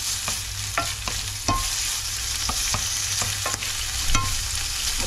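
Smoked bacon fries in a pan for pasta carbonara, a steady close sizzle with occasional sharp pops and scraping stirs from a utensil, and no voices.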